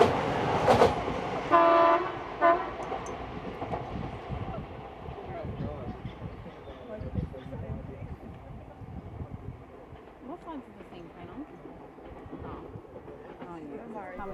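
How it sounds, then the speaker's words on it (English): A New South Wales Trainlink Explorer diesel set passes through a station, opening with a sharp horn blast, then rumbling and clattering rail noise that gradually fades as the train moves off. "an Explorer set from New South Wales Trainlink is seen passing through"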